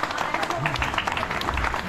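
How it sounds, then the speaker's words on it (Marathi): A crowd at a Navratri fancy dress competition applauds the performers, brisk clapping from many hands blending with voices and chatter. "सगळे टाळ्या वाजायला."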